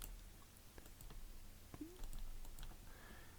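Keys are pressed on a computer keyboard while a command is typed in a macOS terminal. Several soft, close clicks land irregularly against faint room hiss, with no talk.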